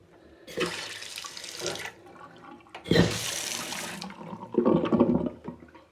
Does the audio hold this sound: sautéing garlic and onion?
no